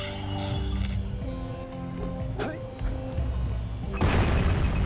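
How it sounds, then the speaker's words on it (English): A cannon fires once in the Jak and Daxter video game, a dull boom near the end, heard under game sounds and commentary. "hsblue just shot one cannon shot over towards that Pelican that Rozer is picking up."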